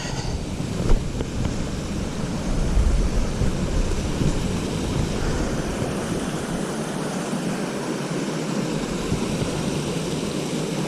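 Runoff water rushes steadily down like a waterfall on a mountain trail, a continuous broadband wash, fairly loud and unchanging, with some wind noise mixed in and no voices.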